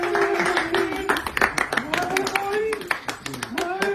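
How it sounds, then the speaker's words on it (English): Scattered clapping from a few people, irregular and sharp, heard under overlapping animated voices. "What's everyone clapping for?"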